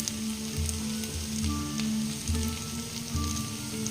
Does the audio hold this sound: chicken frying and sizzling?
yes